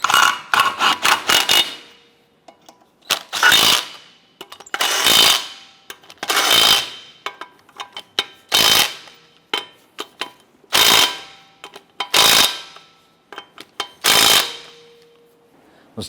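Impact wrench snugging the lug nuts on a 2007-2012 Nissan Versa wheel, loud close bursts of rattling hammering repeated about eight times with short silent gaps between.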